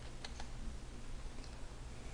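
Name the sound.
computer keyboard keys pressed for Ctrl Z undo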